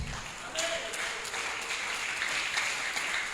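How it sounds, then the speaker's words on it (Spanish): A church congregation at a ministers' convention applauds the Lord, a steady, moderately distant wash of clapping sustained under a faint voice throughout. "Denle aplauso al Señor"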